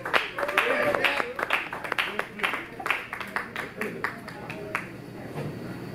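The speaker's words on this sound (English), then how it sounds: "Give him a round of applause on that." Scattered audience clapping for a keyboard player at a funky blues club show, a modest, uneven patter of hands that trails off gradually, with some background voices and noise mixed in.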